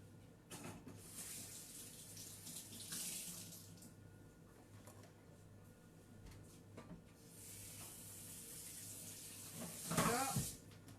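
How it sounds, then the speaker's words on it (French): Running water from a kitchen tap splashes over a baking tray being rinsed in a sink, a steady wash with louder gushes near the start and a strong splashing burst near the end. "Là, on a rincé un peu notre plaque."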